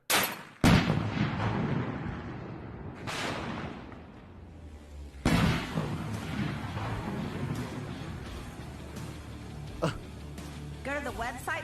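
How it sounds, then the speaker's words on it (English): A car, apparently a Prius, blows up with sudden loud blasts, followed by rumbling and crackling debris, along with a second heavy boom partway through. "if that was a real explosion"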